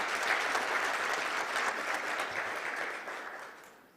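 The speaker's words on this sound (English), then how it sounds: "Let us give him a full round of applause once more." Sustained audience applause at a Southern Africa regional forum on AI, a dense wash of many clapping hands filling the hall, steady and loud before gradually tapering off at the end.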